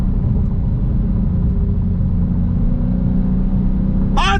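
A 2021 Dodge Challenger Scat Pack with a six-speed manual under throttle, its engine giving a loud, steady low rumble that holds evenly throughout, with a brief sharper burst right at the end.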